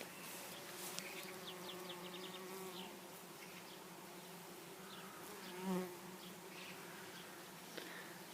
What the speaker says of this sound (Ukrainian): бджола вилітає, хапає і несе назад у вулик.